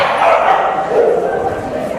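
A pet dog yips and whines close by, with a person talking over it throughout.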